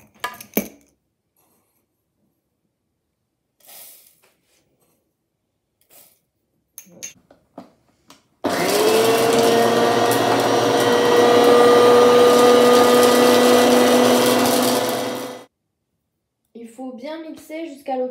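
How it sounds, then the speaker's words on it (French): Blender grinding a spoonful each of assorted seeds into fine powder, a loud steady whirring motor run of about seven seconds between short spoken remarks and light kitchen clinks. "Maintenant, on va pouvoir passer au mixage du coup des graines."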